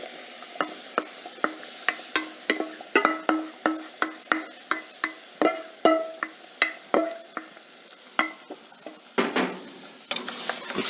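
A spoon stirs tomato purée into browned mirepoix in a pan for tomato sauce, giving a steady series of sharp scraping clacks against the metal, roughly two per second, close and clear over a faint sizzle, with no talking.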